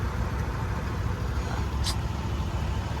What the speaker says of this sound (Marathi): भाई फुल ट्रॅफिक आहे इथं.